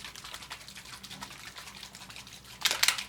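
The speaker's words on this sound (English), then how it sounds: "give them a good shake until you hear the metal ball." A Heidi Swapp Color Shine spray bottle shaken hard, a quiet steady clatter running throughout and growing into a louder, brighter burst of metal-ball rattling near the end.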